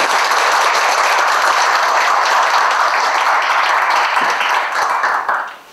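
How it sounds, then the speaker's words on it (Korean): Lecture audience applauding an economics professor at a forum, a loud, dense wash of many hands clapping steadily before fading out at the end. "오늘 좋은 말씀 해주신 이근 교수님께 박수를 보내드립니다"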